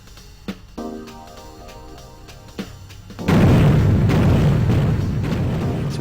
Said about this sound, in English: allow the bomb at the bank to explode